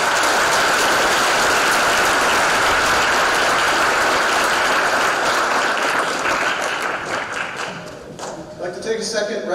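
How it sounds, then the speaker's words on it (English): Sustained audience applause fills a school spring concert hall, dense and steady for most of the span before thinning out near the end. "Please give them another big round of applause."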